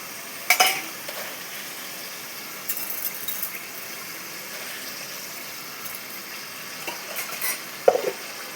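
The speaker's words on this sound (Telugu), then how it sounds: "పచ్చి రొయ్యలు పసుపు వేసా. అవి కొంచెం ఫ్రై అయ్యాక" Raw prawns with turmeric frying in a pan, a soft continuous sizzle with occasional stirring scrapes and light clinks of a utensil against the pan, close and fairly quiet.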